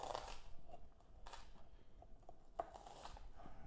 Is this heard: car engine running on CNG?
no